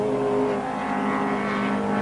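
A Mercedes 190E 2.3-litre touring car races at Silverstone during the 1987 RAC Tourist Trophy, its engine holding a loud, steady, close drone without any talking.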